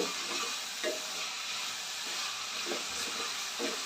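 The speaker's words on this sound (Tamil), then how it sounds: "கொஞ்சம் இந்த மசாலா கூடயே எண்ணெயில் நல்லா வதக்கி விடுங்க" Chopped bottle gourd sautés in oil with masala for sorakkai kootu, a soft continuous sizzle broken by a few short scraping stirs of the pan.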